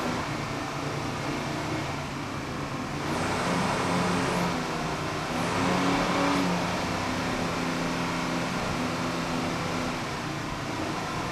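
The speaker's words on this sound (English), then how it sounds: "At the green, Speedwear Racing. Going down on the throttle." Twin 500-horsepower Mercury inboards power a 38-foot Fountain racing boat to full throttle at the start of a 2002 factory-class powerboat race. A continuous loud engine roar swells slightly midway and stays steady.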